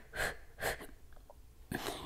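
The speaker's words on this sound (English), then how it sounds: "exhale through the mouth" Breathy exhalations through the mouth during a beginner yoga session, forward bend with bent knees; two close, soft breaths followed by a third after a short pause.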